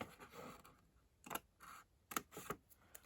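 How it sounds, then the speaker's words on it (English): Scissors snip through paper while an envelope for a junk journal is being made, a few quick separate cuts up close with short quiet gaps between, no talking. "so that I can cut that down"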